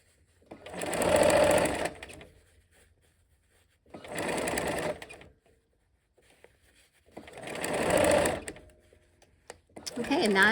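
A sewing machine with a quarter-inch foot stitches fabric in three short, close bursts, with quiet pauses between them and another burst starting at the very end.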